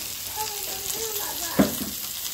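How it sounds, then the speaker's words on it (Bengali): Chili and cumin powder sizzle gently in a hot pan as they are stirred, a low, even frying hiss with a single louder scrape of the spoon near the end. "এগুলো দিয়ে সুন্দরভাবে নাড়াচাড়া করতে হবে"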